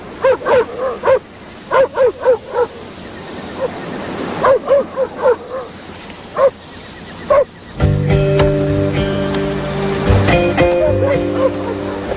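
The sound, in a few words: dogs barking and whimpering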